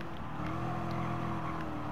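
Chevy Corvette race cars in Gran Turismo Sport, a racing video game, roar steadily during an overtake, their engines droning loud and continuous with layered harmonic whine throughout.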